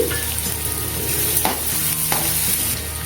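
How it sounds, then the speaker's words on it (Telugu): Chopped onion and peeled garlic sizzle loudly in a hot pan of oil for an egg and dried shrimp curry, with a steady frying hiss broken by a couple of scraping stirs of the spoon, no voices. "ఉల్లిపాయ వేసుకొని ఇలా కలుపుకోవాలి"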